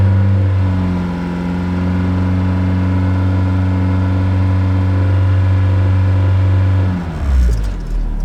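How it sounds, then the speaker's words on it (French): A car engine idles steadily and close by for about seven seconds during a Topdon BT Mobile Pro S battery test, a low, even hum that then shudders and cuts off near the end. "Faites tourner le véhicule pendant 5 secondes"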